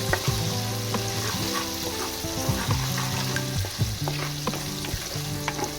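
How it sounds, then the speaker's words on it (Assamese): Steady frying sizzle of spices in hot oil with stirring clatter and scraping throughout, close and fairly loud, no voices. "এইখিনি মই তেলত ভাজি ল'ম"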